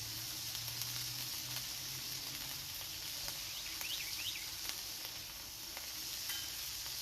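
A smashburger sears in bubbling grease on a hot grill, giving a steady, loud sizzle and crackle with occasional sharp pops and spits, heard with no one talking.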